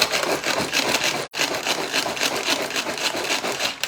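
Electric chopper processing banana bread ingredients, including almond milk, as a loud continuous whirring grind with a brief stop partway, close and steady with no talk.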